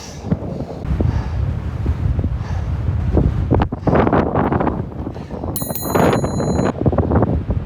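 Strong gusty wind buffets the microphone during an uphill bicycle climb, a steady loud low roar with a brief bicycle bell ring near the end.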